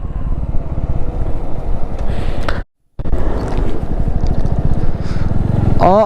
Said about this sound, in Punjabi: ਚੌਥੇ ਗੇਅਰ 'ਚ ਹੀ ਚੜ ਗਿਆ ਮੋਟਰਸਾਈਕਲ